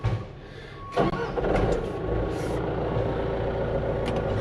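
An old truck engine cranks and catches on a cold morning, settling into a steady loud rumbling idle that fills the background.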